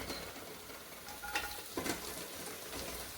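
Ginger and garlic frying in oil until brown: a steady, faint sizzle with a couple of soft stirring scrapes in the middle.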